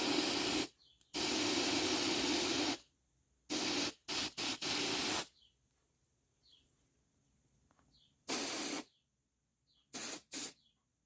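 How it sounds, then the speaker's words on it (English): An aerosol spray is fired at a NuTone-Scovill S-191 smoke detector in several hissing bursts, a few long and some short, close and loud, separated by silence. "So let's give it a spray"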